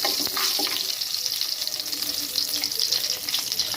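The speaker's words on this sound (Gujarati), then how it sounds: "આપણું તેલ ગરમ થઈ ગયું છે આપણે જે સૂકા મસાલા મૂક્યા હતા એ નાખી દઈશું અને આને સરસ આપણે જીરું તતડી જાય ત્યાં સુધી આને શેકી લેવાના છે" Cumin seeds and dry spices crackle and sizzle in hot oil, a steady, dense hiss with fine popping throughout, close and fairly loud, with no voices.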